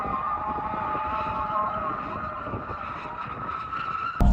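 A Hyundai IONIQ 5 N drifting, tires squealing in a long sustained screech over a steady electric drivetrain whine, loud and close, ending in a sudden bump.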